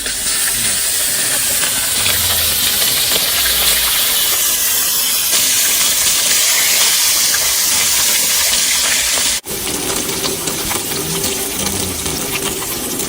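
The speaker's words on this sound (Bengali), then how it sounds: "বন্ধুরা তেল গরম হয়ে গেছে, মাছ ভেজে নেবো।" Fish frying in hot oil in an outdoor setting, a loud continuous hiss and sizzle that holds steady throughout, with a brief break near the end before it resumes just as strongly.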